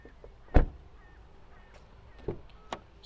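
A Peugeot 308 Hybrid car door shuts with one sharp thud, followed a couple of seconds later by softer clicks of the latch and handle, all quiet and close.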